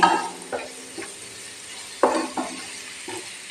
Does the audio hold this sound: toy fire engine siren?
no